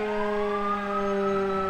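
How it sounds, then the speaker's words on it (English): A new Montgomery County fire truck sounds its mechanical Q siren, a loud, close, sustained wailing tone that holds steady and rises slightly. "nice Q siren as well"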